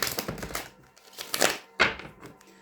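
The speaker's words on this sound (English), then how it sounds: "Okay, one more butterfly shuffle." A deck of tarot cards is butterfly shuffled close up, producing bursts of rapid papery riffling and flicks, then a sharp snap as the cards square together, with no talking.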